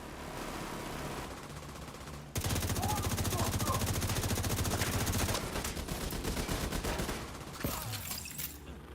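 Turrets firing in The Division 2, a loud, sustained rapid burst of automatic fire that kicks in suddenly and rattles on for several seconds, with quieter shooting before and after and a voice talking.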